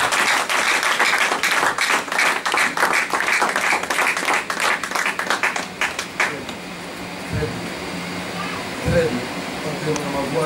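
A church congregation applauds with dense, rhythmic clapping that fades after about six seconds. Loud acclamation carries on underneath and gives way to a murmuring hall.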